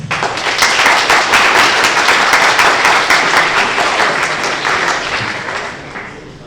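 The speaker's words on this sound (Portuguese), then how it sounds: "Uma salva de palmas para Marcos." Loud, dense audience applause for a lecturer introduced before a talk on recommender systems at a university computing event, sustained clapping that gradually fades toward the end.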